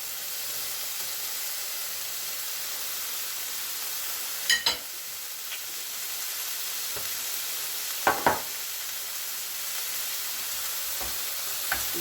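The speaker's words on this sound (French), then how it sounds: "Quand tout est bien mélangé, quand la viande est bien dorée" Meat browns in a pan with a steady, close sizzle and hiss, while a spoon scrapes and stirs in a few brief clatters.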